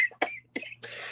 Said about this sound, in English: You made me cough like an old man.